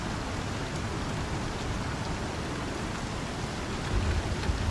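Steady rain in the Star Citizen video game, a constant hissing downpour at even volume with no voices over it.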